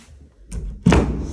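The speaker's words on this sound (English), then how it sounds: "The door open and closes fine with no concerns." Interior door in a rental house opened and shut, a soft thump followed by a firmer closing thud, close by in a quiet room.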